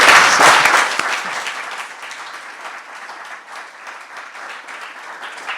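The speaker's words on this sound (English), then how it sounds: "please, everyone, a big round of applause to everyone here and to yourself" A crowd applauds loudly, the clapping peaking at the start and then settling into steady, slightly softer applause that continues throughout.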